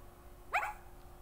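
A dog on command gives a single short, sharp bark that is moderately close and clear against a quiet background.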